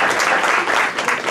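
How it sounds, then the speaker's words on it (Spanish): An audience at a dance show opening breaks into loud, dense applause for Maylén Fernández and her students, a brief close wash of clapping. "El aplauso para Maylén Fernández, sus alumnas, por supuesto."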